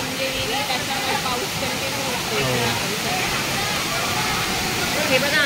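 Pahine Necklace Waterfall near Trimbakeshwar, swollen after heavy rain, roars as a steady, dense rush of falling water close by, with a voice faintly audible over it.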